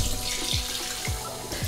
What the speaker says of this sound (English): And a second warm water rinse.